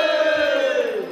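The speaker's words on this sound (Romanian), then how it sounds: "Faceți roata cât mai mare și strigați odată tare!" A large crowd standing in a circle at a Romanian folk greeting in Dubăsari shouts loudly in unison, one long sustained cry that holds steady and then drops in pitch at the end.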